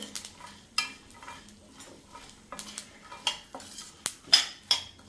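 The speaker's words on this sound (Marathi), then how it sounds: "आता अजून मी 1 ते 2 मिनिटं हे परतून घेते चांगले।" Dry fruits and sesame seeds roast in a pan while a spoon stirs them, giving soft scraping and light clinks of utensil on metal in an irregular rhythm, quiet and close, with no talking.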